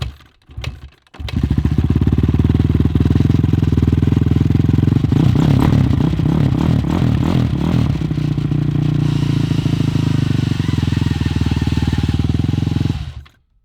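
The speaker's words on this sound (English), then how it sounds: "I noticed that there was a noise which seemed to be coming from the clutch" A Honda CRF450 supermoto idles loudly and steadily up close, a rattling clatter that seems to come from the clutch rising over the engine for a few seconds midway before the engine cuts off.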